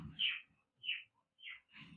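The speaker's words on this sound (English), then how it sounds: "If you can hear me over my bird." A small bird chirps in four bright bursts spaced about half a second apart, close by, with a low murmur of background noise between calls.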